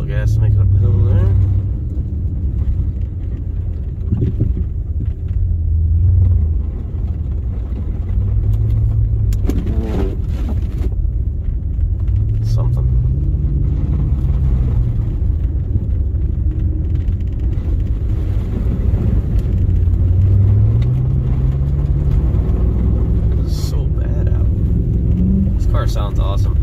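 A Chrysler 300C V8 with AWD and the stock exhaust removed accelerates uphill through deep blizzard snow, its loud throaty engine rumbling and rising in steady pulls, with someone talking over it.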